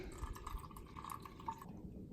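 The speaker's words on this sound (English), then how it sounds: "So now I'm just gonna slowly pour this through the coffee filter and let that filter into the bottle." Homemade Instant Pot wine is poured slowly through a coffee filter into a bottle, with a steady trickling, dripping flow and a faint higher splash toward the end. The pour is close and fairly quiet.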